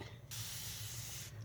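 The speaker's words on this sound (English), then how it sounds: "All right, so let me use my spray." A water spray bottle mists onto paper in one steady, close hiss lasting about a second, with a low hum underneath before and after.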